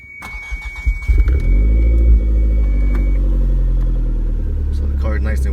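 A 1993 Toyota MR2 Turbo engine starting up: a few uneven cranking pulses, then a deep, steady, loud idle rumble up close, with a voice speaking briefly near the end.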